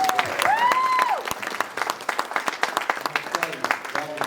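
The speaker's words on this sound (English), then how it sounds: "they deserve a round of applause" Applause from a crowd at a political dinner in Chowan, North Carolina, rising under a voice and then continuing as a steady patter of many hands clapping.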